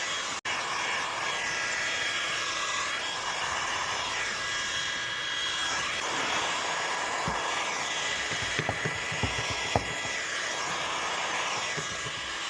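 A heat gun blows with a steady roar as it shrinks window tint film onto the rear window of a BMW E46 coupe, with faint taps and handling noises near the end.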